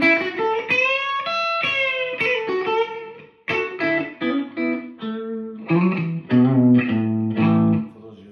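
Electric guitar played through a Telecaster bridge pickup into a BSG Bridgecaster and a Bassbreaker 15 amp, with a short run of bright, slightly driven picked notes and chords that sustain and then stop, heard alone and fairly loud.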